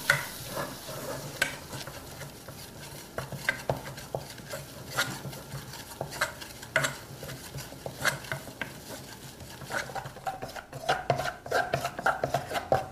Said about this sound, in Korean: 자, 이렇게 해서 브라운 룰가 다 볶아졌습니다.